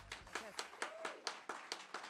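Slow, distinct handclaps, around nine evenly spaced claps from a single person or small group, faint and close, greeting a speaker introduced at a debate on nationalism.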